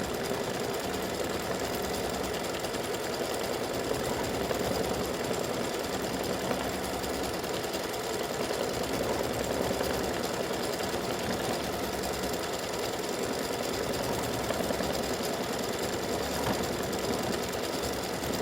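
An embroidery machine stitches a decorative quilting stitch on an in-the-hoop Valentine gnome mug rug panel, a continuous, even, rapid mechanical chatter, faint and steady throughout, no voices.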